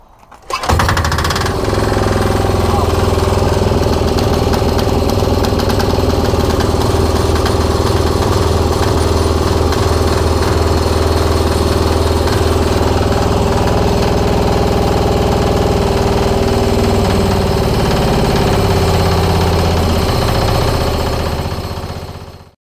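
Small 168F 3hp single-cylinder diesel engine starting from cold and running: a loud, steady, close thumping idle with a strong low hum, holding even for about twenty seconds before shutting down.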